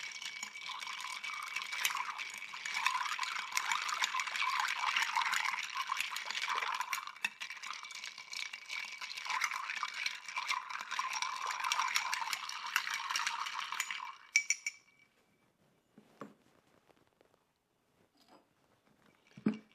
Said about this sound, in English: Give us a good stir to chill in the mix.